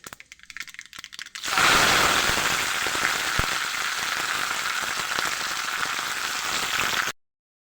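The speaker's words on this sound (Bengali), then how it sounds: "এই পাতা হয়ে গেছে ভাজা ভাজা।" Mustard seeds and curry leaves hit hot oil for a spicy semolina dish, and after a quiet start a loud, dense, close sizzle and crackle rises abruptly and holds steady for several seconds before stopping.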